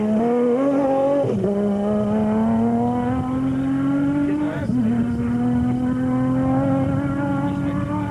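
A production-category race vehicle on the final lap of the 2004 Carnival City 400 roars close and loud, its engine climbing steadily in pitch with two distinct gear changes along the way.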